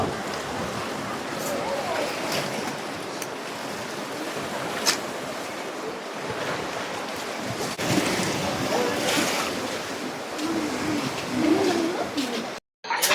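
Rough sea waves at a small island port make a continuous broad roar of surf and wash, with occasional faint bird calls above it.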